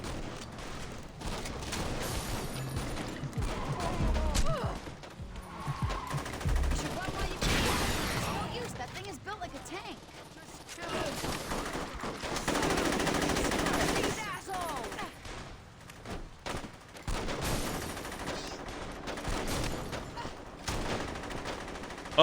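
Gunfire in the video game Saints Row 2 crackles in repeated bursts and rapid volleys through the game's busy soundscape, with a voice talking at times.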